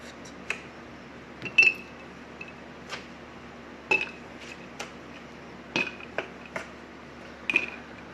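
Frozen coffee ice cubes dropped one at a time into a glass, each landing with a sharp clink, about a dozen irregular knocks over several seconds, close and fairly quiet with no voices.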